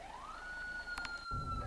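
A police car siren in a bus simulator video game, with a single rising tone that settles into a steady wail. A couple of brief clicks and a low rumble follow near the end.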